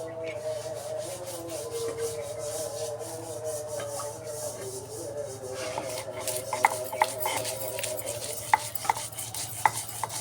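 Dried and fresh chilies being crushed and ground by hand for a Bengali bhorta, a steady scraping and rubbing with sharp knocks and taps growing sharper toward the end over a constant low hum, with no talk.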